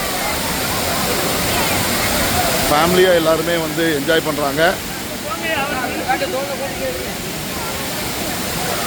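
Thirparappu Falls roars steadily in the background while people talk over it in the middle, the rushing water filling the whole scene.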